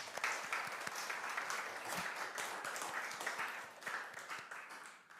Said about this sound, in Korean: 박수로 한번 격려할까요?